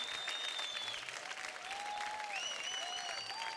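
A studio audience at a televised dance show applauds for the grand master and Remo, with sustained clapping under warbling music.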